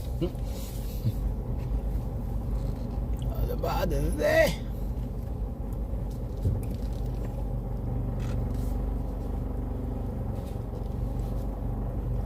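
Honda car rolling slowly into a parking spot at a shopping mall, a low steady engine rumble with a faint scrape, heard from inside another vehicle as people talk briefly.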